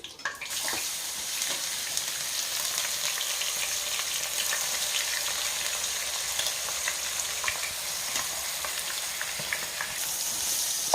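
Cloves, cinnamon and bay leaf fry in hot oil for a chicken curry, giving a steady, close, dense sizzle that holds evenly throughout with faint stirring clicks and no talking.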